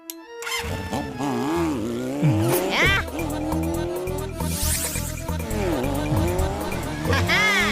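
A heavy motorbike engine revs hard and close, its pitch rising and falling repeatedly, with shrill cries and voices heard over the roar.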